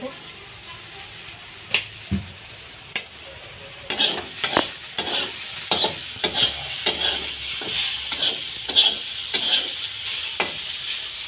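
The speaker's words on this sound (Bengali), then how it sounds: "আমার ঢ্যাঁড়সটা ভাজা হয়ে এসেছে আর দু মিনিট মতো ভেজে নেব" Okra fries in a pan with onion and a little sugar: a continuous sizzle is broken by repeated scraping, clacking stirs from a spatula, at first sparse, then coming rapidly and regularly.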